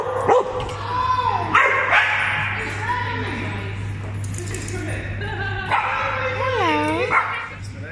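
Several dogs at a doggy daycare centre bark, yip and whimper, some high whines rising and falling, close and lively over a steady low hum, with people talking throughout.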